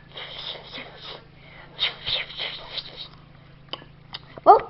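A human voice imitates a loud snore with a series of wheezy, snorting breaths over a steady low hum, ending in one louder, harsher snort.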